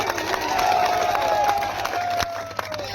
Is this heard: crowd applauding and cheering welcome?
yes